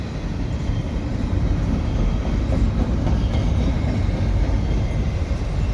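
Canadian Pacific freight train with double-stack containers and mixed freight cars rolling past at Dorval in winter, a loud continuous rumble and rattle of wheels with faint clickety-clack, close by and steady throughout.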